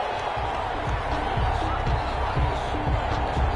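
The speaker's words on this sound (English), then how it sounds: "This home crowd, they're happy with that call." A home crowd cheers in a football video game, a steady roar of stadium noise with a commentator talking over it.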